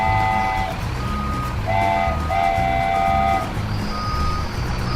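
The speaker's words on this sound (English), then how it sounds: "there's Mason driving the skid steer" Toy skid steer with a buzzing motor loop and a few high electronic reversing beeps sounding in short bursts over it, loud and close for five seconds.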